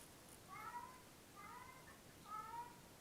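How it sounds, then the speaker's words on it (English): A cat meowing outside a closed door: three drawn-out, wailing meows, muffled and fairly distant, spaced about a second apart over a quiet room background. "If you can hear my cat outside, you know that he sounds like he's dying."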